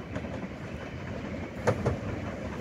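A Class 450 electric multiple unit rolls into a suburban station platform, a steady close rumble of wheels on rail with two rhythmic clacks over the joints, and nobody talking.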